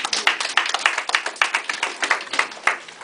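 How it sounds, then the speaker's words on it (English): Close, crisp clapping from a crowd at a Nigerian community meeting in Ottawa, with distinct individual claps forming a quick, uneven rhythm, loud and steady throughout. "So give yourself a round of applause"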